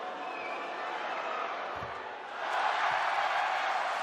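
Steady crowd murmur fills a basketball arena during free throws, swelling louder about halfway through with a brief thump heard beneath the noise.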